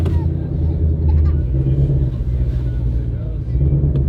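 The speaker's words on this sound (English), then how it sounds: "It should be track exhaust mode" A 2020 Shelby GT500 in track exhaust mode, idling outdoors with a loud, deep, steady rumble and slight surges, close by, with people talking under the engine.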